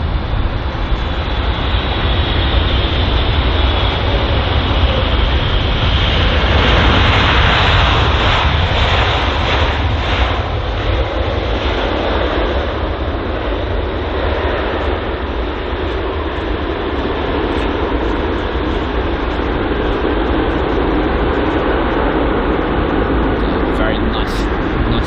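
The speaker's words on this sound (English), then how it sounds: "Let's see if the pilots on board are going to do a great job landing the aircraft." A jet airliner lands on runway 27 at London Heathrow, a loud, continuous engine roar with broadband rushing noise that swells and then slowly fades, heard from nearby outdoors.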